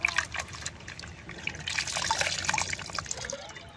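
Water trickling and splashing up close during a brief rinse while making homemade Ujala fabric whitener from shimul flowers, a soft continuous pour with small drips.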